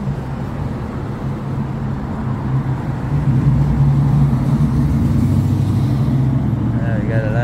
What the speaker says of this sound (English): We got a lot of noisy traffic out here.